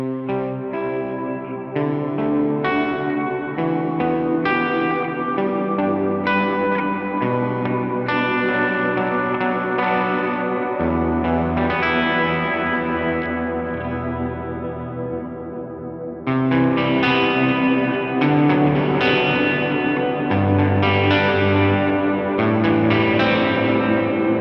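Electric guitar fed through a huge ambient reverb on a Line 6 Helix, chords and melodic notes blooming into a wide, washy, shimmering tail with echoes and chorus swirl, loud and continuous, swelling fuller partway through, no speech.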